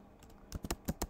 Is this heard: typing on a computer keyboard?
yes